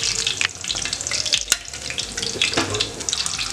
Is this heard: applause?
no